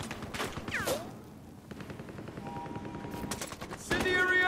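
Automatic gunfire in the video game Battlefield Hardline, rapid bursts and shots with whizzing effects and a shouted voice, building into a dense, loud volley near the end.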